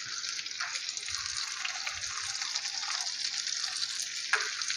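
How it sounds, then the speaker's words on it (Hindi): Tomato, green chili and cumin frying with onions in a pan for an egg and potato curry, a steady bright sizzle with a few stirring scrapes and no talk. "अब हम इसमें टमाटर ऐड करेंगे और साथ ही हरी मिर्च और ज़ीरा ऐड करेंगे।"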